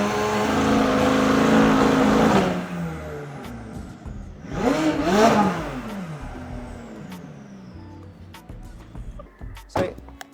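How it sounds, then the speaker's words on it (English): A Nissan S15 car engine roars with a deep idle, then revs up sharply and winds back down, close by, with faint voices afterward. "give it a rev"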